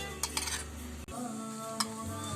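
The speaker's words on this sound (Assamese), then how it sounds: "আধা চামুচ হালধি এটা মিডিয়াম সাইজৰ চামুচেৰে 4 চামুচ বেসন দিম যে গুটেখিনি সামগ্ৰী আমি মিক্স কৰি লম" A spoon stirs gram flour and turmeric together in a bowl, giving a few close scraping strokes and light clinks against the dish.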